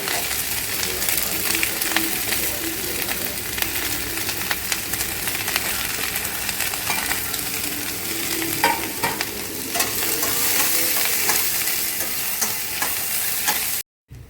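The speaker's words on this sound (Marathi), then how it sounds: "आणि त्याच तेलात कांदा आणि लसूण घालून भाजून घेतलं" Onion and garlic fry in hot oil, a dense, continuous close-up sizzle and crackle with occasional stirring scrapes, steady and loud until it cuts off abruptly near the end.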